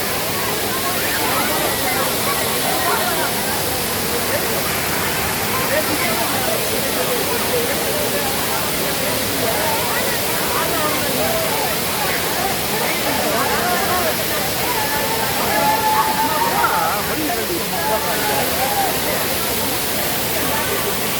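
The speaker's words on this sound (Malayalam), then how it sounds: "ഇതാണ് ആ കമ്പത്തുള്ള ചുരുളി ഫാൾസ്." Churuli waterfall at Kambam, a stream flowing down from forest, roars in a continuous close rush of falling water, with people talking faintly beneath the steady torrent.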